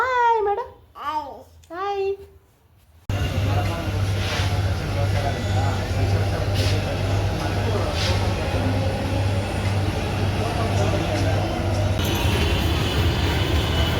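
A child babbles briefly, then steady rumbling metro train noise and station hum fill the space, with faint voices and occasional clatter in the background.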